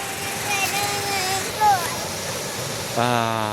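A waterfall at Tad Faek, heard as a broad, steady rushing roar throughout. Voices talk over it.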